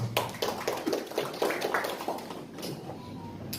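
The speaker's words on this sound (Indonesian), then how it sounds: "Tepuk tangan untuk Kakak Irwan." An audience of university students in a hall gives a short burst of scattered applause, uneven claps that thin out over a few seconds.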